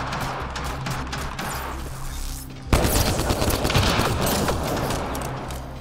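Rapid gunfire from a weapon in the video game Mass Effect Andromeda crackles in dense volleys, then swells abruptly into a louder, sustained barrage with heavy impacts, close and with no voices.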